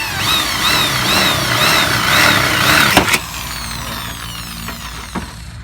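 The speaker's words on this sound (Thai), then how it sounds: "อันนี้คือเราจะใช้เราเตอร์เล็กนะครับ เป็นตัวเจาะ" A small router bores a pilot hole for a sliding door lock, whining steadily at close range before cutting off abruptly, leaving a few faint clicks and knocks.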